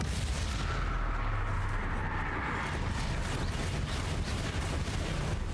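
Repeated Confringo blasting spells cast in the video game Hogwarts Legacy, a continuous roaring barrage of booming explosive impacts, loud and dense throughout with no pauses.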